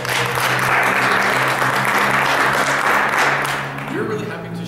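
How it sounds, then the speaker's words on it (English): Concert audience gathered for an interactive university music event gives a sustained round of applause, dense, close clapping that fades a little near the end while a low hum runs underneath. "Let's give ourselves a round of applause."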